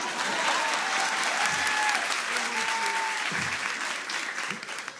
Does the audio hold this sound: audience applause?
yes